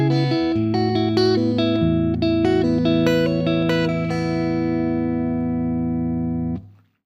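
A guitar plays the intro of a song, with clean picked notes ringing over sustained lower tones in a slow, flowing pattern that fades out at the end.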